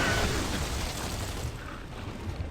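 A grenade explosion in the video game Gears of War 2, a loud, broad rumbling blast that fills the whole short stretch and slowly fades.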